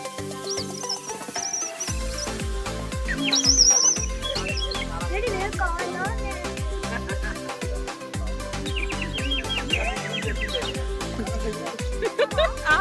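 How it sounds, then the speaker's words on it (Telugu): Small birds chirp and tweet at Japali Hanuman temple in Tirumala, faint high calls scattered over a rhythmic, loud musical backing with steady beats. "పక్షులు చూసారు ఎంత బాగా సౌండ్ చేస్తున్నాయి"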